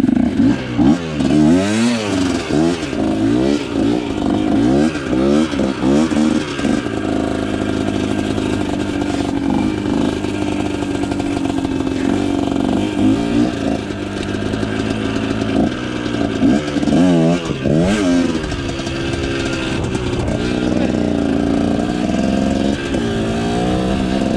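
A Kawasaki KT250 trials motorcycle rides over rough ground in second gear, its engine loud and close throughout, with steady two-stroke revving that rises and falls, mixed with occasional clatter and scraping.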